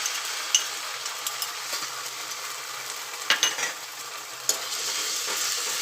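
Tomato ketchup sautéing over very low heat with garlic and chillies in a pan for aloo chaat, a soft steady sizzle with a few light spoon taps and scrapes.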